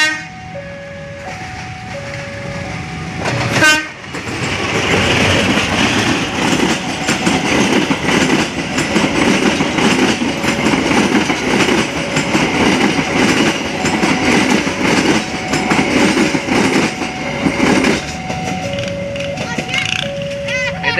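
A diesel passenger train, the Serayu hauled by a CC 204 locomotive, rumbles loudly past with rhythmic wheel clatter, its horn sounding in long tones at the start and again near the end.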